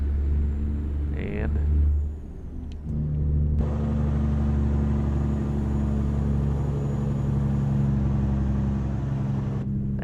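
An old truck engine in American Truck Simulator rumbles steadily and loudly up close, dipping briefly before settling into an even, deep drone while someone talks over it.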